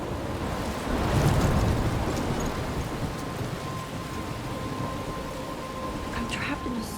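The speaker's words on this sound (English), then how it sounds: "I'm trapped in a storm?" Heavy rain pours steadily in a stormy Life is Strange game scene, with a low rumble of distant thunder swelling early and rolling on beneath the downpour.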